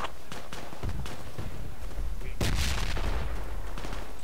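AK rifle fire in the Project Reality military shooter, a run of sharp loud reports with a heavier burst midway, over steady battlefield noise and faint voice chatter.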